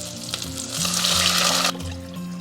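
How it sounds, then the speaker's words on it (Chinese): Clean water poured into a hot pan of fried spices (star anise, cinnamon, bay leaf, dried chili, crushed black cardamom), a loud rushing sizzle that swells for about a second, then drops back to a softer simmer. "然后全部香味炒出来过后，我们倒入清水了"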